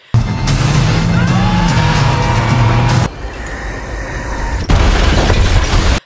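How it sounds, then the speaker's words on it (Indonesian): An action-film car chase ends with a car smashing through a roadside barrier: a loud engine roar, then a heavy crashing impact, a brief hollow lull and a second burst of scraping, crunching noise. "Ethan berhasil menabrak mobil si albino dan bosnya hingga terjatuh melewati pagar pembatas"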